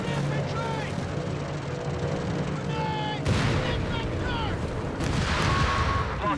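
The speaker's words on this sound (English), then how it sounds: "Butterfly bombs here." Butterfly bombs go off in Company of Heroes 3, a scattered series of sharp blasts and crackling bursts over a steady battlefield rumble, with a louder cluster of detonations in the second half.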